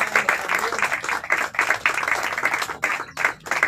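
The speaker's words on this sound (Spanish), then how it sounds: "Recibo hoy un fuerte aplauso para la bendecida Milka" A church congregation breaks into a strong round of applause for a member's birthday, dense, uneven clapping with brief dips, mixed with some voices.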